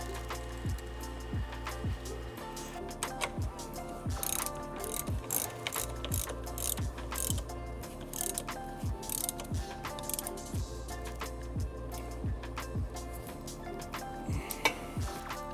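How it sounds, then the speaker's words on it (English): A ratchet wrench clicks rapidly as a bolt is driven into a Whiteline differential bushing insert on a Subaru BRZ or Toyota GR86, a close, rhythmic series of pawl clicks in repeated bursts. "and then you can screw the bolt in"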